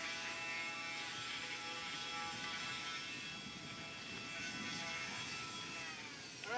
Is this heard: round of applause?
no